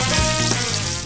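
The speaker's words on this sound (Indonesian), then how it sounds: "Langsung aja cus kita goreng satu persatu si bebeknya ke dalam minyak yang panas ini" Duck pieces dropped one by one into hot deep oil hiss with a loud, dense, continuous bubbling sizzle, close up and without any voices.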